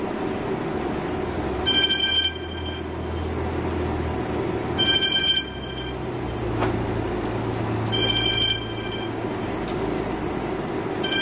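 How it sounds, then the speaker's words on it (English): A mobile phone rings in short repeated bursts, three clear ringtone chimes over a steady low background rumble. "So, my phone is ringing."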